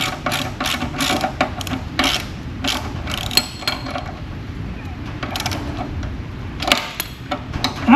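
Bolts on the rear drum of a Revolution reel mower being tightened, giving a close run of quick metallic ratchet clicks and small clanks in uneven bursts throughout, with no talking.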